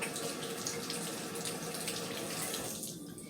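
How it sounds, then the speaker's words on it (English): A kitchen tap runs steadily over a cucumber and a tomato being washed in a sink, a close, even water hiss that fades slightly at the end. "I'm going to wash my cucumber off and I'm going to wash my tomato off"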